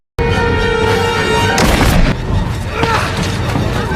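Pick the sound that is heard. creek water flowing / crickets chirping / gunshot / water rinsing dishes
gunshot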